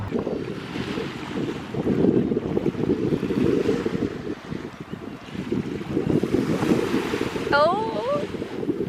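Ocean surf washes continuously at a beach under strong wind buffeting the microphone, with a few brief voices and a short gull-like cry near the end.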